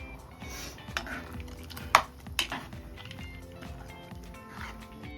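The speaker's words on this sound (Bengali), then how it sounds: "আমি ডালটা মাছের মাথাটা দিয়ে দিচ্ছি।" Fried katla fish head going into a pot of dal, with clinks and scrapes of a spoon stirring against the metal pot, a couple of sharper knocks, moderately close and no talking.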